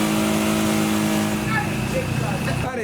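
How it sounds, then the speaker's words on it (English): An old, smoky Ford's engine runs at a steady loud pace with a puffing exhaust blow, under a voice talking nearby. "It's very smoky, but There's a slight exhaust blow there, you can see. exhaust is blowing"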